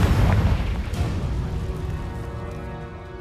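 A Confringo explosion spell detonating in Hogwarts Legacy, a loud booming blast up front that decays into a long rumbling tail and fades away with no talking.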